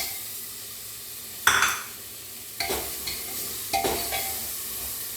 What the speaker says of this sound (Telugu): మనం ముందే కడిగి పెట్టుకున్నాం కదండి ఆలు, ఇవి దీంట్లోకి వేసేస్తాం